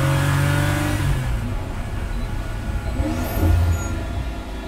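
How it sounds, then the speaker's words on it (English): Pagani Huayra hypercar engine on the Goodwood track, a loud sustained roar with shifting pitch, a brief high whistle-like tone and a few low thumps near the end, with no talking. "You get the whistles and bangs from the Huayra."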